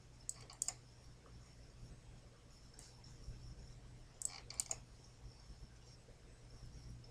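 Computer mouse clicks while selecting records in a database, a quick double click near the start and another cluster of a few sharp clicks midway, faint and close over a steady low hum.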